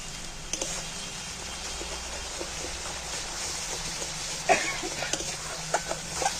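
Spices being sautéed in a pan for Bengali egg bhapa, with onion, chilli, turmeric and salt, giving a low, steady sizzle and faint stirring scrapes throughout, a few soft clicks near the end.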